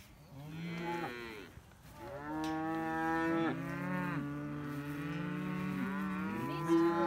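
Farm cows moo in long drawn-out calls that overlap one after another, loud and close, a continuous chorus of lowing with no talking.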